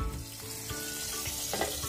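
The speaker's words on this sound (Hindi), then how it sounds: "अब मैं इसे फ्राई करूँगी एक एक करके सभी को" Stuffed tomatoes fry in hot oil in a home kitchen, giving a steady close sizzle with soft crackles and pops throughout, no voices heard.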